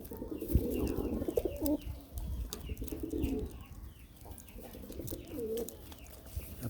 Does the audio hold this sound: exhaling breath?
no